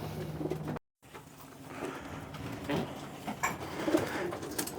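Racing pigeons coo softly and repeatedly in a loft as birds are readied for the first race of the season, with low murmuring calls and light shuffling throughout.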